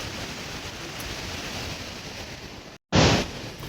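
River water rushes toward Athirappilly falls in a continuous broadband roar, steady and fairly close, with a brief cutout near the end followed by a louder surge.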